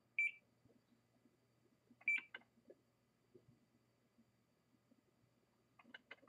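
A multimeter set to continuity mode gives short electronic beeps near the start, around two seconds and again near the end, alongside soft clicks and probe taps on a PlayStation 4 board in an otherwise quiet room.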